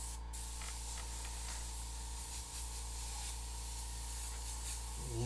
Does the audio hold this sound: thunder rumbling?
no